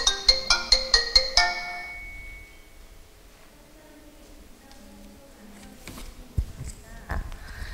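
A telephone rings in a rapid run of bright electronic pulses for about a second and a half, then stops, leaving quiet room tone and faint clicks during a Korean public health emergency drill.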